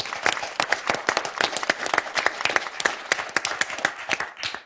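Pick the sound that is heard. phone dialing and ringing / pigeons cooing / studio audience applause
studio audience applause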